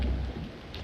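Rain pours steadily in the video game Aidyn Chronicles, with a deep thunder rumble at the very start that fades under the continuous wash of falling rain.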